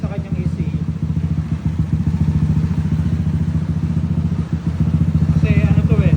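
Yamaha NMAX 232cc scooter engine fitted with a brand-new version 4 exhaust pipe, running steadily at close range with a low, even throb and light mechanical clatter throughout, with speech present.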